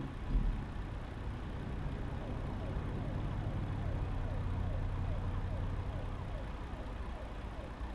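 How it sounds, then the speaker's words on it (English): A police car siren wailing in repeated rising and falling sweeps, heard from inside a car in traffic over a steady engine and road rumble, moderately distant and continuous. "but I do hear a police car."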